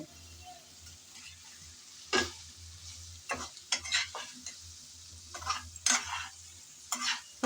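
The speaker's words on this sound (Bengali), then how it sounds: "এখন দিয়ে দেব বেজে রাখা ফুলকপিগুলো" Pre-fried cauliflower is added to a pan of masala and stirred, producing soft, sporadic scraping and clattering strokes over a low, faint background hum and sizzle.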